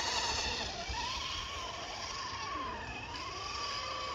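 A Losi LST radio-controlled truck driving in snow, its small high-pitched motor whining steadily with wavering pitch and a scraping rubbing noise, fairly faint.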